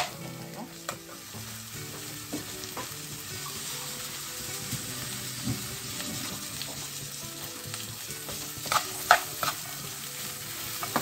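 Carrots sautéing in a hot pan with a steady, close sizzle and frying hiss, broken by occasional scrapes and stirring clatters, with no voices.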